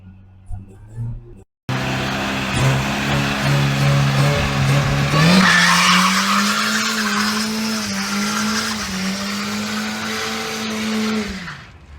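A Mini car on a test drive after a no-start repair, its engine loud and close, revving up with a brief gear change midway and then a steady pull before easing off.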